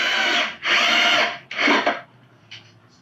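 A power drill drives the final screw into melamine kitchen cabinet furniture with an MDF back, in three loud whirring bursts, the last one shorter, followed by quieter faint clicks.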